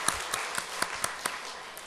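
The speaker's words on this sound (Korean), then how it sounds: "우리 박수하겠습니다. 크게 박수합니다." A small congregation at a Korean church mothers' prayer meeting applauds, with a handful of claps landing in a loose, irregular rhythm, close and fairly quiet against a soft background murmur.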